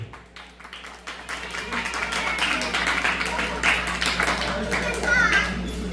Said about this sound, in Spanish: Lo recibimos con un fuerte aplauso a Angie y Julio.